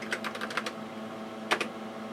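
Typing on a Tandy 6000 computer keyboard, a quick run of several close key clicks, a pause, then two more keystrokes.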